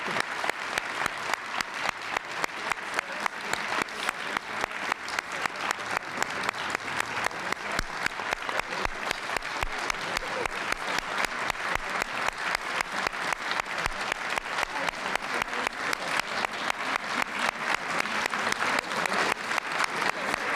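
A large council chamber crowd gives sustained applause to a national champion women's soccer team, steady dense clapping lasting about twenty seconds with no talk over it.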